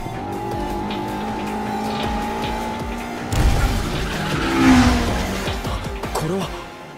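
Racing cars from Initial D: a steady, droning engine gives way to a louder surge with a squealing tire skid, and voices talk over the noise.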